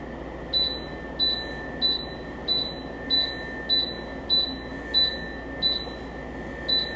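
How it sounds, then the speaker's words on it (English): A Dreo tower fan gives a short electronic beep about once every 0.6 seconds as its remote is used, a bright high tone over a steady low hum and faint background noise. "when I use the remote, you hear a beeping sound."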